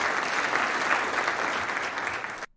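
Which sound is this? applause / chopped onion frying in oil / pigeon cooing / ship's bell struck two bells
applause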